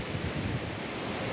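Big ocean waves surging onto a beach lined with colorful palm trees at Cagwait, a steady loud wash of surf with wind buffeting the microphone throughout.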